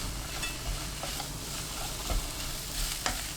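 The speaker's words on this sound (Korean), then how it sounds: "팬에 올리브유 1큰술, 다진 마늘 반큰술, 파, 표고버섯 넣고 센 불로 볶습니다." Shiitake mushrooms, minced garlic and scallion stir-fry over high heat in olive oil, a continuous close sizzle broken by several scraping stirs and light clacks of the utensil against the pan.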